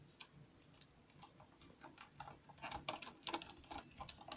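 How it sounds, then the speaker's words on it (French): Soft, quiet keystrokes on a Corsair Strafe RGB MK.2 silent mechanical keyboard, an irregular run of light muffled clicks that grows busier toward the end, close up with no talking. "Alors le clavier, du coup, comme je l'ai dit, il est silencieux."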